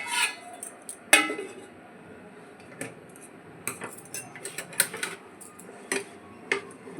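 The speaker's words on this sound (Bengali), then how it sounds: "দেখুন দইয়ের সঙ্গে আমি মশলাটি মিশিয়ে নিয়েছি।" Spices are stirred into yogurt for paneer tikki, a spoon clinking and scraping against a bowl in irregular sharp taps and brief scrapes, close and quiet, with no talking.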